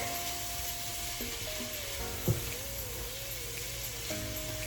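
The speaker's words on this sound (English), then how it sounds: "I'm gonna finish up the steak" Steak sizzling in a hot pan gives a steady, close hiss that holds evenly throughout, with a faint tonal hum running beneath it.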